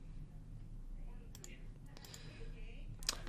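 Calculator keys pressed to enter one divided by the sine of 0.7, several quick soft clicks in the second half over a low steady hum.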